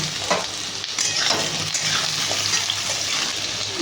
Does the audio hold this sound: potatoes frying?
yes